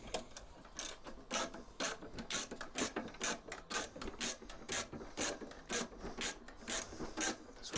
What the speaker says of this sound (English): Now I'm going to elevate the tank up again.